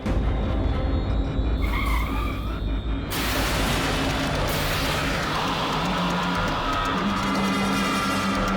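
A car brakes hard to a stop with a short tire screech, followed by the engine idling and low road rumble, loud and close with no voices.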